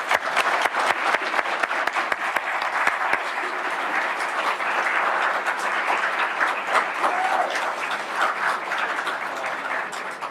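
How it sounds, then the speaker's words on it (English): Sustained applause from an audience at a city employee longevity ceremony honoring five-year service, dense steady clapping filling the room for the full stretch without talk. "Let's give them a round of applause."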